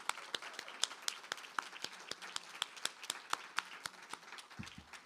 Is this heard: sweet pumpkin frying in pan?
no